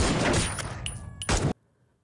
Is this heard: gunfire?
yes